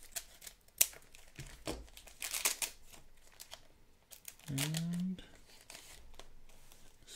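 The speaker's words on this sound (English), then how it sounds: "Use the scissors on the Japanese packs." Scissors cut open Japanese Pokémon card booster packs, giving quiet crinkling foil and a short snipping scrape close to the mic, mixed with rustling handling noises and a brief spoken word.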